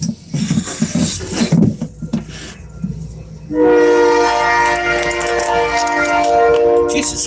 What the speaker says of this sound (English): did they up their potency when it comes to the sound of that fucking train?